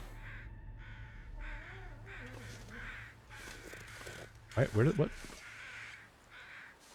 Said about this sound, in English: Why are there so many crows?